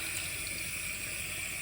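Running water rinses soap from a paintbrush, a constant close hiss of the stream with no pauses or voices over its brief length.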